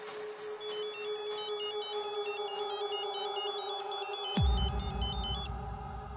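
A telephone rings with a repeating electronic warbling ringtone, steady and clear, then a low thump hits near the end before the tone cuts off.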